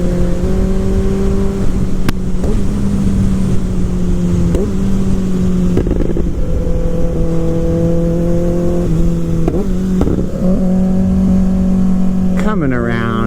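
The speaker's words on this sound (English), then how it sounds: "I like the clutch and banging through the gears myself." A 2024 Kawasaki motorcycle with a Moore Mafia ECU flash and pops-and-bangs tune is ridden hard through clutch gear changes. The close, loud engine drone drops and climbs with each shift.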